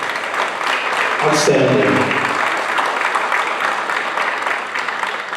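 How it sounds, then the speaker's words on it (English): Audience applause for a student team at a pitch night event, a broad steady wash of clapping across the whole clip, with a voice speaking briefly over it. "One more hand of applause."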